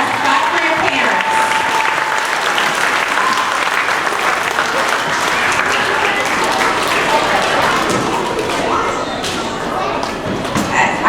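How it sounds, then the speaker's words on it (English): Parents and audience clap loudly at an elementary school spring band and orchestra concert, a thick sustained wave of applause that continues unbroken through the whole stretch, with some voices mixed into the crowd. "Yes, clap for your parents."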